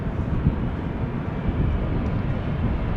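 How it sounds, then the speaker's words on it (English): Embraer E195-E2 airliner arriving at Amsterdam Schiphol in wet, windy weather, a steady low roar of jet engines mixed with wind noise, sustained throughout. "Next up is going to be an E2 Embraer 195."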